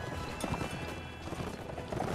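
Horse hooves galloping in the video game Mount & Blade, a faint, rapid, continuous clip-clop patter under low background noise, with no speech.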